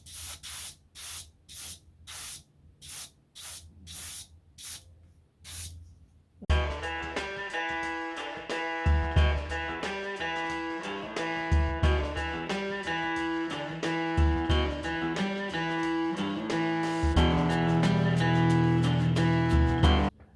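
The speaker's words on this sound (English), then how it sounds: "I've just put the white paint in the airbrush, so let's start painting these shockers white." An airbrush sprays white paint onto motorcycle shock absorbers in a run of short, sharp hissing bursts with brief gaps, followed by a denser, continuous stretch of sound.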